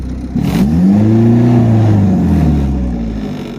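A cold turbocharged Honda Integra engine free-revs from idle to about 3,500 rpm, rising in pitch, holding high for a second, then dropping back down, loud and close.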